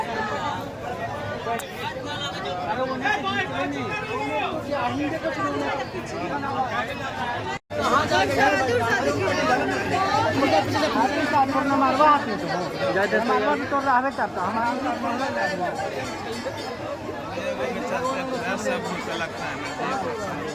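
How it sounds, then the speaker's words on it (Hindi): A dense crowd chatters at a busy hilltop temple, a steady babble of many overlapping voices close around, with a brief dropout partway through. "पूरा भीड़ है दोस्तों, देख सकते हैं। देखिए कितना भीड़ है।"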